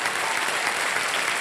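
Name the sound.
audience applause for contestant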